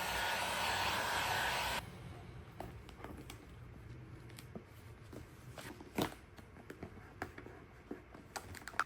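Heat gun blowing hot air onto vinyl car wrap to shrink out wrinkles, a steady close roar lasting about two seconds before cutting off, followed by faint handling clicks and taps.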